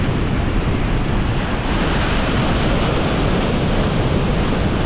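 A powerful waterfall near Baños, Ecuador pours down in a steady, loud broadband roar of rushing water that holds unbroken throughout, with no voices.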